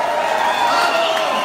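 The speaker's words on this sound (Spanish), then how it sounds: "Un fuerte aplauso." A concert audience at a Bolivian rock festival applauds and cheers in a dense, steady wash of clapping and crowd noise that stays loud and even throughout.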